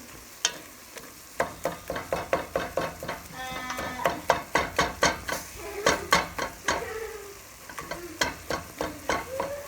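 Ground pork for hamburger soup browns and sizzles in a pan while a utensil breaks it into bite-sized pieces, giving sharp repeated scraping taps in irregular bursts over a steady frying hiss, close and fairly loud with no talking.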